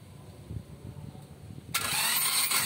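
A Toyota Calya engine cranks on its starter, a low uneven churning that gives way after nearly two seconds to a sudden loud, broadband roar that holds steady to the end.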